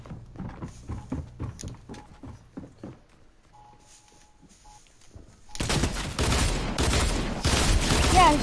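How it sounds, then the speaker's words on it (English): Gunfire in a PS4 game, shots fired through a wall: a scattered string of sharp shots gives way to a loud, sustained burst of rapid fire. "He shot me through a freaking wall."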